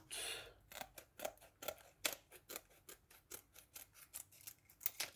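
Scissors snipping through thin transparent plastic sheet to make a budget envelope, a steady series of close, crisp cuts at a quick uneven rhythm, quiet and with no talking.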